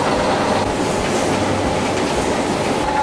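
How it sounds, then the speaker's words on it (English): A high-speed 3-ply face mask manufacturing machine runs in a large factory with a loud, continuous mechanical roar and a fast rattling clatter, steady from start to finish. "This is a real high-speed 3-ply mask machine"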